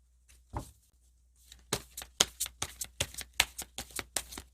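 Tarot cards shuffled by hand in a quick run of crisp riffling bursts, close and distinct, with no talk over them.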